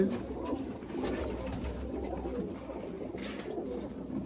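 A male quail, a Sialkoti and Kasuri cross-breed, calls in soft, repeated cooing notes over a steady low background hum, fairly close and moderately loud.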